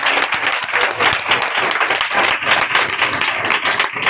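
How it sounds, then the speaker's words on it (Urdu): Loud, dense applause fills a church during an Easter service, many hands clapping steadily and evenly for the full four seconds with no break. "آئیے روح القدس کو ہم زوردار تالیوں کے ساتھ ویلکم کریں"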